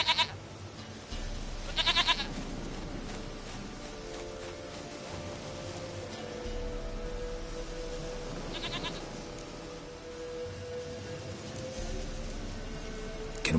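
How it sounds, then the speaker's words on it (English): A goat in The Witcher 3 video game lets out a few loud, nasal bleats, one at the start, another about two seconds in and a third later, over a droning in-game ambience. "Goat of mine, dearest, sweetest goat."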